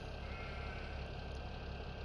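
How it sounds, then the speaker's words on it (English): Continuous bleating from sheep in the video game Farming Simulator 17 fills the short clip, loud and layered over a steady tractor engine drone. "Those sheep are loud. I can hear them inside a running tractor."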